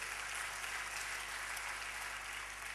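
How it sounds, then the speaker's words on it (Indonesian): A church congregation claps hands in worship, a faint, distant wash of steady applause under a low constant hum. "Tepuk tangan bagi Allah kita."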